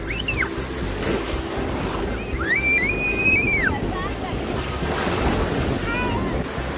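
Ocean waves wash onto the beach at the Hilton Hua Hin resort in a steady, broad roar with wind noise, and a few high whistling chirps come through above it.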